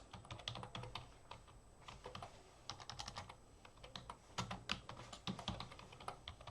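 Fingers typing on a computer keyboard, quick irregular clusters of light clicks and key taps with brief pauses between bursts, close and fairly quiet.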